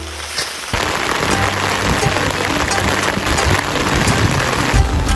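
Heavy rain falls during a mountain hike on Mount Mariglem, a dense loud hiss of drops hitting surfaces that starts abruptly and stays steady and close.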